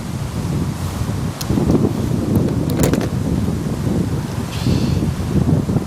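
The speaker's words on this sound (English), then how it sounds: "I've got a bit of wind coming in here." Steady wind buffets an outdoor microphone during a fishing rig demonstration, producing continuous low rumbling gusts that swell and ease across the clip, with faint rustling on top and no speech.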